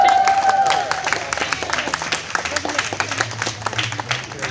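Pride parade crowd cheering and clapping outdoors, a dense patter of applause with scattered shouts and whistles running steadily throughout at moderate loudness.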